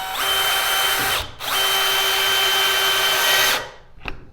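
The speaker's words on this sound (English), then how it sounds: "this is a drill. It can drill holes into wood and can drive screws into your material" A cordless drill/driver drives a screw into wood at a high speed setting, its motor whining loud and close in one short run, then a brief pause and a longer steady run that cuts off abruptly.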